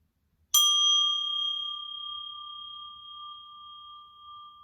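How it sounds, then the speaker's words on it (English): A single bell struck once, a bright ding with a clear ringing tone that sustains and slowly fades over several seconds in quiet surroundings. "I'll ring a bell."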